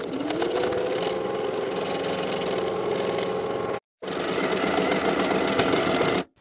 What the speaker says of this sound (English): edge stitch close to the upper inner fold all the way around as we did for the sleeves